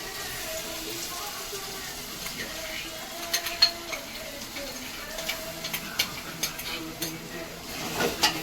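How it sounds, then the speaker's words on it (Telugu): Ground paste stirred into fried onions in a hot pan for a chicken dish, with a soft steady sizzle and scattered scraping clicks of a spoon that grow more frequent toward the end. "ఫ్రై చేసుకుని బాగా కలుపుకోవాలి"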